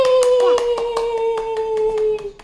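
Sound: baby clapping hands

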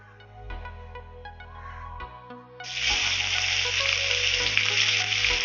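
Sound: oil sizzling in a wok for cooking bhola fish

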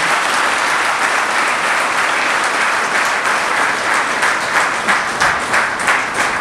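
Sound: audience applauding

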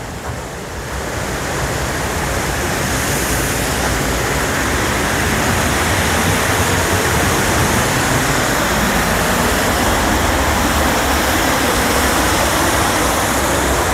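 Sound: water running underneath a mill

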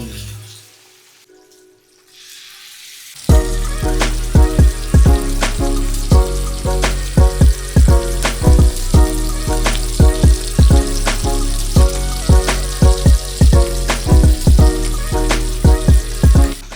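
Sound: frying bala fish in a pan

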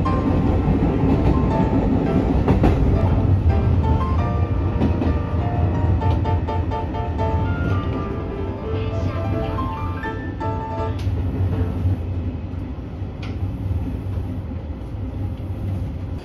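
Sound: train running on the old Nagasaki Line

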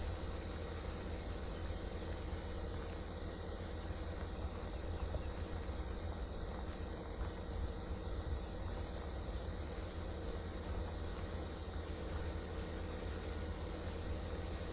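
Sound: New Holland T8 tractor engine idling, Farming Simulator 2017 video game

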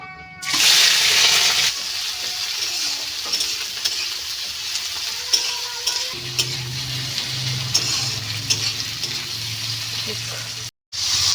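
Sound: onion and chilli frying in a pan

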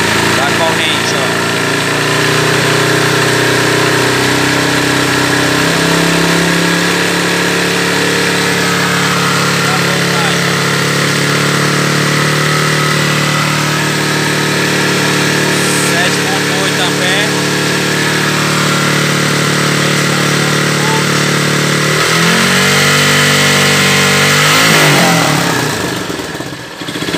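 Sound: Honda CG 150 ES motorcycle engine accelerating

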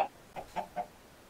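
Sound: chickens clucking in a video game

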